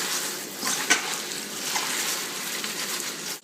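Organic spinach rinsed under running water, a steady close gush with a brief splash near the start, with no talk.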